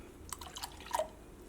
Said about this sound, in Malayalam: ഒരു 2 ടേബിൾ സ്പൂൺ വെള്ളം കൂടി ചേർക്കാം